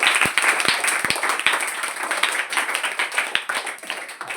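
A meditation class breaks into lively group applause, many hands clapping at once in a dense, steady burst that carries on throughout.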